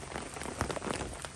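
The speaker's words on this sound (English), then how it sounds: "It's currently raining and sunny at Hillshed" Rain patters steadily on surfaces in woodland during a sunny shower, a soft, dense hiss with scattered drop taps and no voices.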